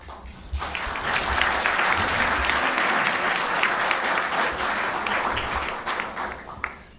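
An audience at a National Press Club luncheon applauds, a dense, even wash of many hands clapping that swells after a quiet start, holds for several seconds, then fades out.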